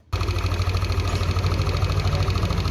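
Yamaha Aerox scooter engine starts and idles steadily, a close, even low rumble with a slight rhythmic pulse throughout.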